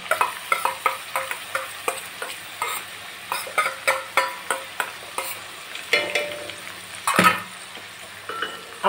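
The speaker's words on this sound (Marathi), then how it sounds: "आपल्याला ही मिरची पण तेलामध्ये चांगल्या प्रकारे परतून घ्यायची आहे।" Green chilies and cabbage frying in oil for homemade Schezwan chutney, a soft sizzle under a rhythmic series of spoon scrapes and taps against the pan, with one louder clatter near the end.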